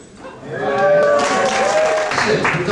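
An audience at a Green Party of California state meeting breaks into sustained clapping that swells after a soft start, with scattered voices rising over it.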